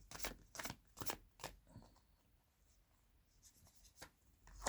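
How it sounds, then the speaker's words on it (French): Tarot cards being laid down on a table, a faint series of soft, close slaps and papery brushes, a rapid handful at first, then a short lull before a few more. "on a quelques cartes à déposer"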